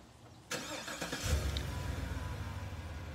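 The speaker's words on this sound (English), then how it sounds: "It does have a remote engine start." A 2015 GMC Yukon Denali engine cranks and starts abruptly by remote start, then settles into a steady idle rumble nearby with no one speaking.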